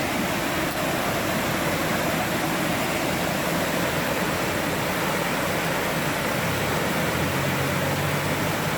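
Toxaway Creek flows under a small suspension bridge on a forest hiking trail as a steady, dense wash of rushing water. The sound is loud and unbroken throughout, with no voices heard.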